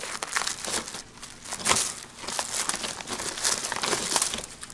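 Plastic wrapping on a 25 kg sack of 99.9% pure sulfur is torn open and handled, a close, continuous run of crinkling and rustling bursts with no voices.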